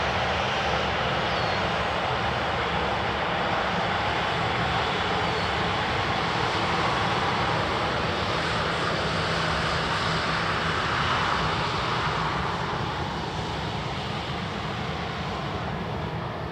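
Jet airliner departing from an airport in the early morning, a steady loud roar of engines at takeoff thrust sustained throughout with a broad rumbling wash.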